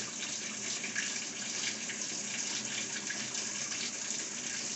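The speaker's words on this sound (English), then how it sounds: "Now it's going to run that water in for probably 60 seconds" A Whirlpool coin-op washer fills with water, giving a steady, moderately quiet rush of flow that holds constant for several seconds with no voices.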